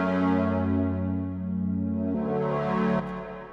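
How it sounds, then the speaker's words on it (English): Thick self-made moving supersaw synth chords with heavy processing swell and shift, sustained and loud, changing pitch twice before fading slightly, with no voices. "Just some self-made moving super saws with the correct processing makes them sound like that"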